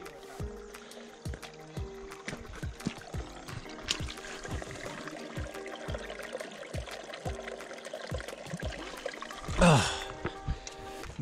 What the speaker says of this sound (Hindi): कुएं में जाके बॉटल भरनी है